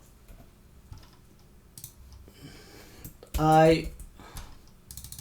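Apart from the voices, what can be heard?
typing text on a computer keyboard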